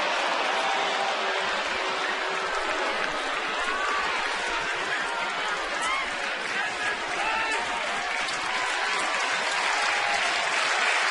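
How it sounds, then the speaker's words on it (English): A baseball stadium crowd applauds and cheers steadily during a Tampa Bay at Baltimore game, a dense, continuous wash of clapping and crowd noise throughout. "Nice to see the crowd into it a little bit."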